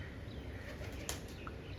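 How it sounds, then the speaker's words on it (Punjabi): Pigeons flap their wings in flight over steady low ambient rumble, with a short soft flutter of wingbeats standing out near the middle, faint and somewhat distant. "ਕਬੂਤਰ ਆ ਦੇਖੋ ਉੜ ਰਹੇ"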